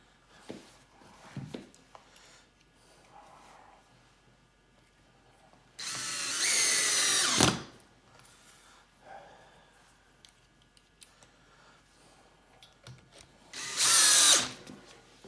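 A power drill drives screws to attach a faceplate to a wood bowl blank for lathe turning, two loud whirring bursts of about two seconds each, separated by quieter handling knocks and shuffling.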